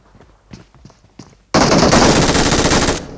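A snow gun in a video game fires a loud, sustained rapid burst of about a second and a half, preceded by a few quieter scattered pops.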